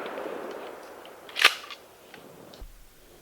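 A single sharp 20 gauge shotgun blast firing a Federal 2 3/4 inch shell of number 3 buckshot outdoors, loud and brief, with a short echo fading behind it.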